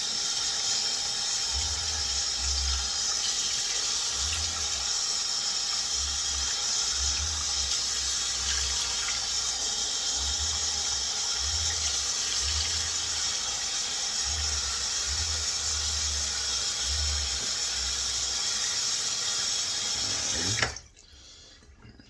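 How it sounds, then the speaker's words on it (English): Hot tap water runs steadily into a sink for a face wetting before a safety razor shave, a constant close rush that cuts off abruptly near the end. "Get some nice hot water, and just dampen and moisten the face as usual"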